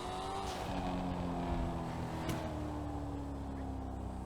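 A modded Lamborghini Urus SUV engine in GTA V gives off a steady, loud, close drone that holds throughout, with no talk over it.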